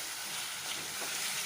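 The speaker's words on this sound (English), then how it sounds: "Stir this very well. Let it fry nicely." Spicy mutton chilli fry sizzling and frying in a pan, a soft steady crackling hiss, faint and close, with no voices.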